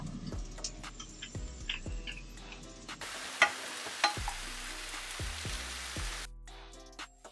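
Ground beef sizzles steadily in a pan while being broken up and stirred, with sharp taps and scrapes of a utensil against the pan cutting through the frying hiss, close and alone.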